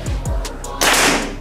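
A PCP air rifle shot, fired during a test of a full-set rifle: a sharp, loud, broadband crack followed by a hissing tail that lasts about half a second, after a couple of low thumps.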